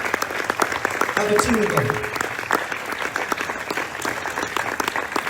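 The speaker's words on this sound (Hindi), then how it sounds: "तालियां बजा, तालियां बजा।" A church congregation at a sermon in Faisalabad claps in sustained, dense applause that fills the whole stretch, with a preacher's voice speaking over it.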